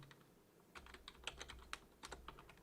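Quiet typing on a computer keyboard while entering an Excel text formula, with irregular clusters of key clicks close to the microphone and no voice.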